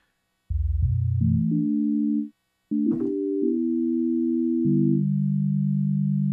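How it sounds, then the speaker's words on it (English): A synthesizer oscillator plays a pure sine wave tone that steps through a series of sustained pitches, loud and clean, with a brief gap and a short burst of noise midway before the held tones continue alone. "that was a sine wave I started with, I think"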